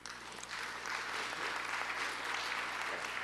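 An audience at a regional conference applauds to welcome a speaker to the stage, with a quick onset into a steady, even wash of clapping that holds to the end.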